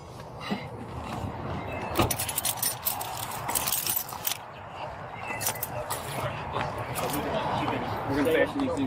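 Keys jangling and clinking repeatedly at close range, a scattered metallic rattle with sharp bright transients, mixed with rustling handling noise while people talk nearby.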